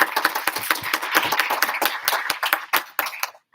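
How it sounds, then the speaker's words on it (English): Close, lively applause from a conference audience: many hands clapping in a dense, uneven patter for about three seconds before it quickly fades to silence. "clap it up for yourself"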